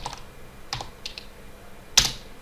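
A few scattered computer keyboard keystrokes are typed at a console, sparse crisp clicks close by with one sharper final tap, no talking.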